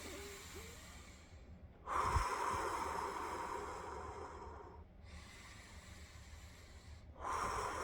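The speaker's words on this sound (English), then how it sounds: "what you do is you concentrate on your breath" Slow breathing for calming down, with long, audible inhales and exhales through the nose, close and fairly loud, each breath lasting a few seconds with quiet gaps between.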